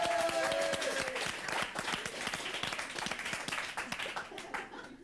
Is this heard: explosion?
no